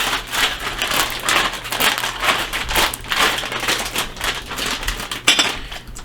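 Chicken pieces shaken in a popcorn bowl, a loud, close, continuous rattling and crunching churn in irregular pulses for several seconds, with no talk.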